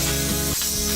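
A continuous close hiss of glue sprayed from an aerosol onto PVC, steady and loud throughout with a slight dip midway.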